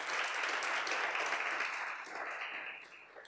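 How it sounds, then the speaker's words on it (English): Round of applause from an audience at a research discussion event, a full steady spread of clapping hands, moderately faint, gradually thinning near the close. "Let's give them a round of applause."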